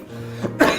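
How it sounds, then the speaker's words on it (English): One sharp cough lands close to the mic after a short throat rumble, and no other sound follows. "I made myself cough."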